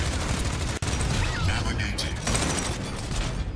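Dense, continuous rapid gunfire in an Overwatch 1v1 duel involving Wrecking Ball, loud and close, with game sound effects and a voice talking over it.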